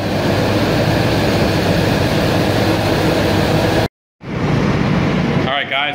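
Main engine of a container ship running, heard near the scavenging air space by the cylinder liners and piston undersides: a loud, steady, broadband mechanical roar and hum with a brief dropout before it resumes.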